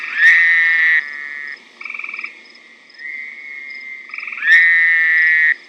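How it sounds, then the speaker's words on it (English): A male Fowler's toad gives its mating call at a watery breeding site, loud and close: long nasal buzzing trills, the strongest at the start and near the end, with softer trills from other toads in between. "males make their way from their sandy hibernation area to their watery breeding area and start calling like this to attract females"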